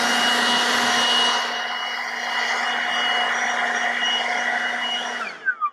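A small leaf blower runs steadily at a driveway edge, blasting clumps of vegetation off the road; a loud continuous whine holds for several seconds, then quickly winds down and cuts off.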